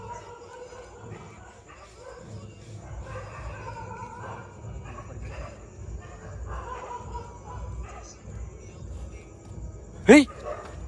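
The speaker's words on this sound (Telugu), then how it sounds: "కుక్కలు ఏంట్రా ఇప్పుడు అరుస్తున్నాయి." Dogs bark and yip repeatedly in the distance at night outdoors during a ghost hunt, mixed under people talking close by, with one sharp, louder yelp near the end.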